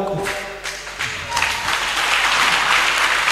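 A church congregation breaks into applause at a testimony service, the clapping swelling from scattered hands into loud, sustained applause filling the room.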